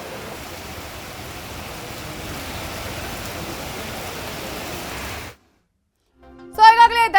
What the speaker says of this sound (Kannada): ಇನ್ನು ಕಾರವಾರದಲ್ಲೂ ಮಳೆ ಅಬ್ಬರಿಸ್ತಾ ಇದೆ.